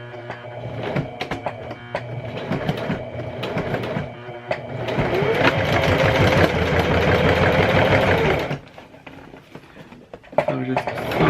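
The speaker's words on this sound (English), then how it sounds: "So we're just sewing straight." A sewing machine stitches a straight seam on a Longchamp handbag. Its rattling whir comes in short bursts, then runs steadily for a few seconds, with a person talking around it.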